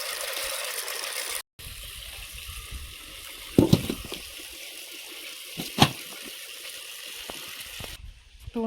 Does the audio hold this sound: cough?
no